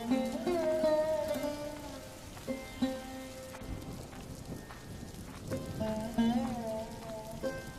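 Rain pours in a Bengali children's cartoon set on a cold winter day, a steady hiss of falling drops running under melodic music and tonal cartoon sounds throughout.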